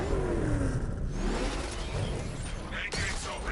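A car engine revs and roars steadily under dense mechanical whirring in a Gotham video game, with a sharp metallic clatter near the end.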